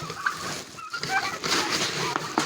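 Hungry chickens and turkeys crowd close while snatching bread, with gobbling and clucking calls overlapping in a noisy, continuous flock chatter.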